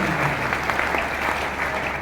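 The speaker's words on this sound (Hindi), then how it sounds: "ताली बजाएं, बदलाव है सर" Audience at a seminar on RCM products clapping steadily for two seconds, a dense continuous applause with no speech over it.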